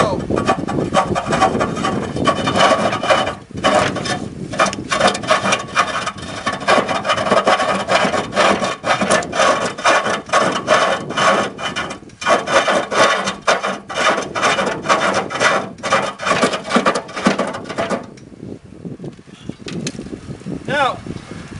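Wood spinning against a cutting tool on a huge 150hp woodturning lathe, a loud continuous rasping, scraping roar with rhythmic catches, briefly dropping out a couple of times before easing off near the end.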